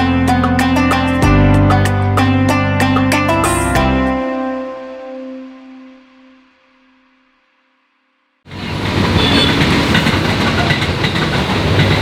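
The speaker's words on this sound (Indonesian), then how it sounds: "berisik pas banget ada kereta lewat" A passing train rings and clatters loudly, fades away into near silence, then a heavy rushing rumble bursts in close by, heard from a street food stall.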